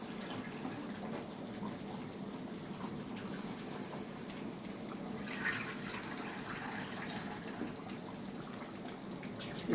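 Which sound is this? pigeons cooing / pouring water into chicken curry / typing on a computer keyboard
pouring water into chicken curry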